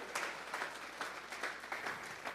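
A church congregation claps in a steady rhythmic pattern, a faint, distant-sounding round of applause with regular bursts roughly every half second.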